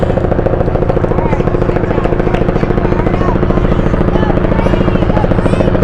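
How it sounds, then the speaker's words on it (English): A helicopter flies overhead during a soccer match, its rotor thumping loudly and steadily throughout. "And you can hear there's a chopper overhead."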